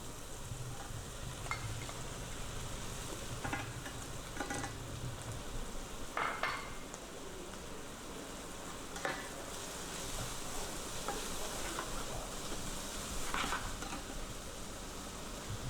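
Mushrooms sizzle steadily as they fry in a pan, with occasional scraping and stirring sounds at a low, even volume.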